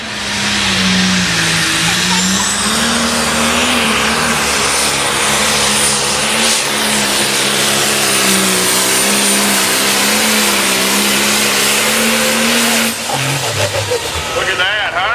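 A tractor engine roars loud and sustained during a pull at a county fair, its drone wavering in pitch for about thirteen seconds before it cuts back, with crowd and announcer voices faintly underneath.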